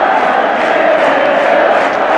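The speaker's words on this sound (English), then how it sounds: "the crowd are really rising to them" A dense, loud football crowd roars and cheers at a 1976/77 Chelsea v Sheffield United match, a steady sustained wall of voices with no pauses.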